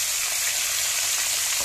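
Spices frying in a pan while pumpkin curry is cooked, giving a steady, loud, broadband sizzle that holds evenly throughout with no talking.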